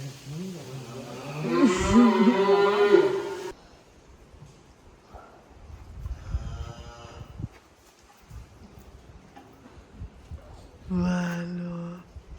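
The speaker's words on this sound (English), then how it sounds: "Petting little calves." Young calves moo while being petted: one loud, drawn-out bellow up close at the start, then quieter lowing, shorter calls and rustling, with a final brief moo near the end.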